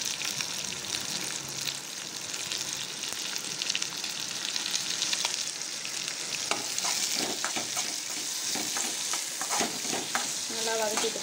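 Onions and tomatoes with salt are sautéed in a pan, a steady close sizzle with scattered stirring clicks toward the end.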